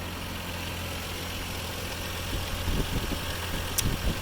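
A 1996 Toyota Land Cruiser FZJ80 engine idles with a steady, even low rumble close by, and a few soft knocks and clicks rise near the end.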